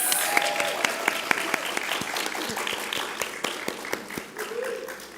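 An audience at a pinning ceremony applauds an award recipient with dense, sustained clapping, a crowd of many hands patting steadily at moderate distance, with a few louder claps standing out and a brief voice near the end.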